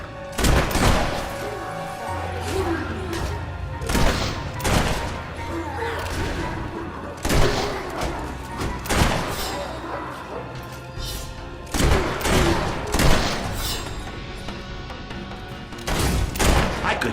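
Repeated gunshots ring out in Fable III, loud irregular blasts and thuds recurring every few seconds over a busy backdrop of music and ambience.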